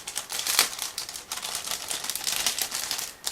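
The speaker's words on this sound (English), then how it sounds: "Here we have plastic bag with clear plastic frame, so just give me a second to open it." A plastic bag holding a clear plastic frame for a 1/35 scale model kit is opened up close, giving bursts of crisp crinkling and rustling with no talking.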